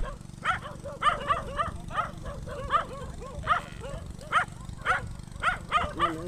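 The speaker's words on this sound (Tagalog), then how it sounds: "Maraming aso po dito. Bantay po nila ang aso." Several farm guard dogs, about five of them, bark repeatedly at a moderate distance, sharp woofs coming in a steady uneven rhythm over a low outdoor rumble.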